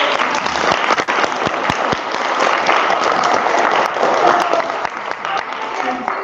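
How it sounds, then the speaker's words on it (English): Contestants at a third-grade-and-under history bee final receive a lively round of audience applause, dense and close with sharp individual claps, sustained throughout at strong volume. "Well, round of applause for everybody."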